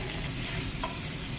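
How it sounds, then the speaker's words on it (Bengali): Sliced onions frying in hot oil, a dense continuous sizzle close up with a brief scrape partway through. "এরপর দিয়ে দিলাম পরিমাণ মতো অনিয়ন স্লাইস করা"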